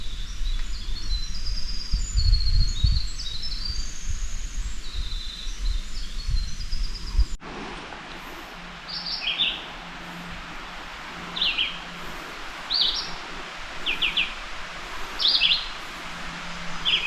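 Several small birds sing and chirp along a forest trail in an old, pristine woodland, with repeated bright, short phrases drifting from near and farther off over soft background rustle and steady ambient noise.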